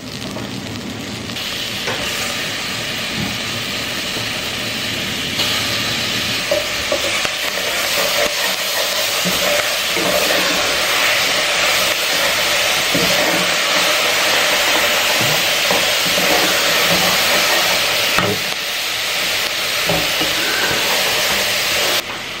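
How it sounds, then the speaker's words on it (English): Two chopped tomatoes sizzle and hiss in a hot pan as a Thai dragon chilli and pineapple hot sauce is cooked, a loud, steady frying sound with soft stirring scrapes throughout and no voices. "I'm now going to add in 2 chopped up tomatoes."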